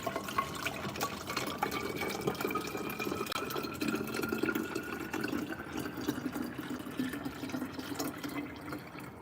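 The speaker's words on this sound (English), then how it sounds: "let's get the water in here. So I just filtered this water." Filtered water pours steadily into a container in a home kitchen, a continuous close splashing and trickling that lasts several seconds, with no talking.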